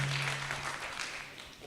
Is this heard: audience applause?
yes